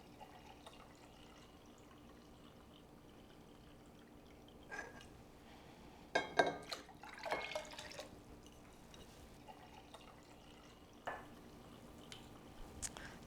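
Water and vinegar poured into a mason jar to make brine for canned dilly beans. Faint, brief splashing bursts rise from a quiet kitchen background.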